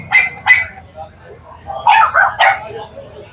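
Four-month-old American Bully puppies give short yappy barks and yips close by, a couple of quick ones then a burst of several, with people talking around them.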